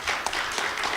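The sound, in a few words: audience applause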